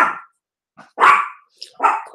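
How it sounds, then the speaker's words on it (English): A dog barks three times indoors, close and fairly loud, with short gaps between the sharp yaps. "Instantly, she's going to start barking."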